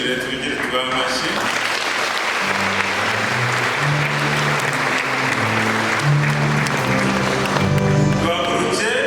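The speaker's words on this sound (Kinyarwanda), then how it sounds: "tubigire tubahe amashyi." A church congregation at a feast-day Mass for the Holy Sacrament at Yezu Nyir'Impuhwe parish breaks into sustained, dense applause, with steady tonal music sounding underneath throughout.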